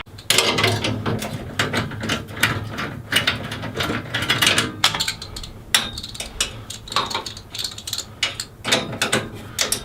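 A tray is being pried off inside a Lexus IS300 cabin, with a run of close plastic clicks, snaps and ratcheting knocks in irregular bursts and no speech.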